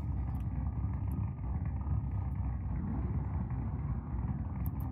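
A C6 Corvette in BeamNG holds a steady, low, rumbling engine drone at about 2,000 RPM on two-step launch control, loud and continuous with no voices over it.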